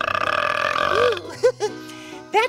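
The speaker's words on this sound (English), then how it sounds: "If a tree burps in the forest, does it make a sound?" A long, loud burp from a children's science show, rumbling for about a second, followed by a few shorter, croaky burps.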